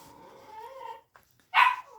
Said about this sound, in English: Again, do excuse the dogs in the background.